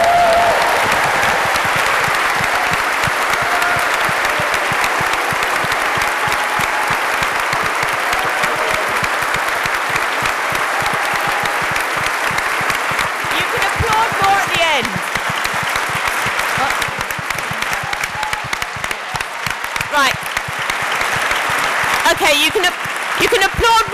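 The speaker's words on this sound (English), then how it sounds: "You can applaud more at the end." Sustained, loud audience applause at a political talk event, a thick continuous roar of clapping lasting over twenty seconds, with a few voices rising through it near the end.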